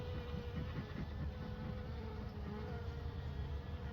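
Honey bees drone continuously during a trapout from a house wall in Laguna Beach, a dense, steady buzzing swarm heard close and without speech.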